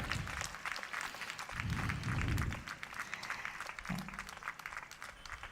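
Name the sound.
applause for combined band display at sports meet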